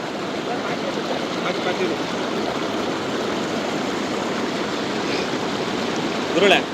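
A steady, unbroken rush of stream water flowing at the Haluvagilu check dam in Hassan fills the whole scene at constant loudness, with a brief splashy swell near the end.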